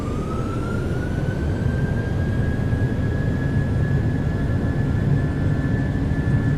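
Steady, loud roar of a PMDG 737-800's jet engines at takeoff power in Microsoft Flight Simulator, a continuous broadband rumble with a rising whine that climbs and then holds steady throughout.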